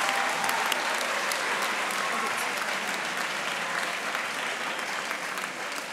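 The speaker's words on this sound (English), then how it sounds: "Give yourself a round of applause" Conference delegates at a closing plenary applaud steadily, a dense, sustained wash of many hands clapping at moderate distance with no break across the stretch.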